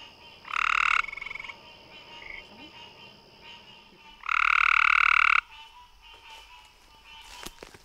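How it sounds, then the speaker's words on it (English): Gray tree frog calling at a pond, with two loud, close, buzzy trills of about half a second and one second, separated by a quiet stretch with faint background croaks. "This is called a gray tree frog."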